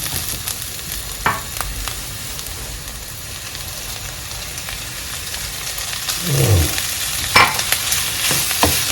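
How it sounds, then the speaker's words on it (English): Bacon fries in a pan for spinach pasta, giving a steady close sizzle with sharp crackles and a brief louder burst of spattering partway through. "It's time to add the bacon."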